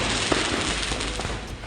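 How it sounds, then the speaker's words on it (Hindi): Stock of firecrackers in an illegal fireworks shop in Sultan Bazaar, Hyderabad, bursting one after another as fire takes hold, a dense, continuous crackle of pops and bangs under a roaring, noisy background. "दुकान में अचानक आग लगने से सारे पटाखे एक के बाद एक फटने लगे।"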